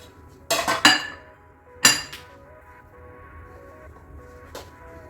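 Halwa is scooped from a pan into a ghee-greased dish: a few sharp metallic clinks and scrapes of a spoon against cookware, close and bright, separated by quiet stretches.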